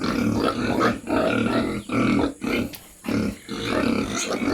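Four pigs, white and brown, on a provincial backyard farm grunt and squeal loudly and close by in repeated rough bursts separated by short pauses.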